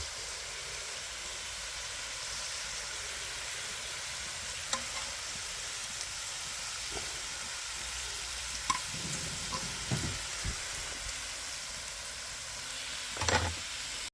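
Meat frying over a wood fire in the countryside, a continuous soft sizzle and hiss with occasional pops and crackles, steady and moderately quiet throughout.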